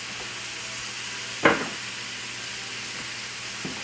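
Onions browning in a pan for chicken breast lyonnaise give a steady, moderate sizzle throughout, with a single sharper scrape or clatter partway through and a couple of faint taps near the end.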